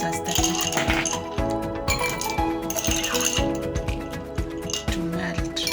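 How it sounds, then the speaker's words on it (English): Ice cubes drop into a glass for whipped Dalgona coffee, a run of sharp, close clinks and rattles scattered unevenly over several seconds, with no one talking. "and add my ice cubes."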